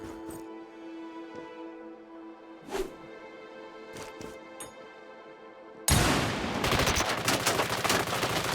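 Rifle gunfire in the video game 33 Days Till Extraction: a few sharp, isolated shots over a quiet background, then a sudden loud burst of rapid, dense firing toward the end.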